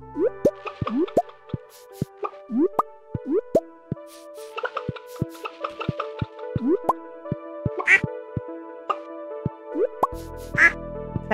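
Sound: ducks quacking in the video game Stardew Valley

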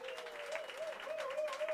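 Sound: audience applause

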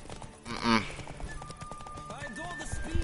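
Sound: horse galloping in the video game The Witcher

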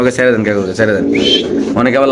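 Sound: king pigeon cooing

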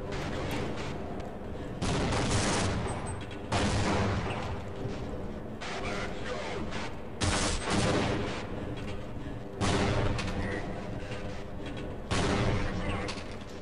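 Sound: grenades and gunfire in Half-Life video game

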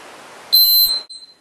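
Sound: workout interval timer signal

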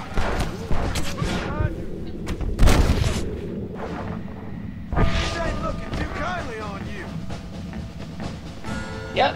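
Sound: outlaw shooting gunfire in video game Red Dead Redemption

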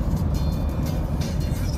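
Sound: convoy of trucks passing on highway

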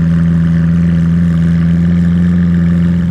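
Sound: Lamborghini Aventador LP 700-4 engine running

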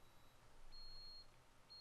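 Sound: Fibaro Z-Wave water sensor alarm beeping

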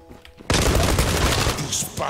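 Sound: gunfire and headshot in video game Zula

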